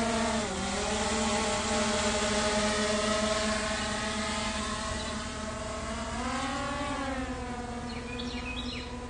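A drone climbs after takeoff, its rotors giving a steady high-pitched whine whose pitch dips and rises as it maneuvers, close and loud throughout.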